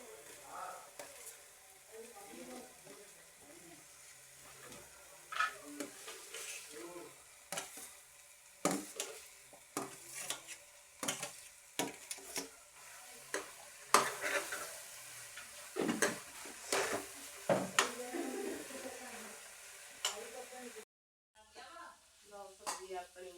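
Chopped potatoes, carrots, peas and cauliflower are tipped into hot tempering and stirred in a pan. The oil sizzles under repeated scraping and clattering of a spoon against the metal, with a brief pause near the end.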